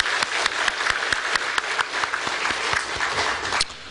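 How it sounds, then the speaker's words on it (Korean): A church congregation claps steadily for its choir, a dense, even patter of many hands that carries on throughout at moderate loudness before easing off at the very end. "우리 성가대의 격려와 감사의 박수를 한번 보내주시면"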